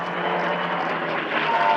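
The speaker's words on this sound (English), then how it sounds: "Marvellous whine there from the Mustang, of course, from the gun ports" Close formation of a P-51D Mustang and a Spitfire passing at the Dunsfold Wings & Wheels airshow, a loud, steady propeller-engine drone with a high whine over it, holding strong throughout.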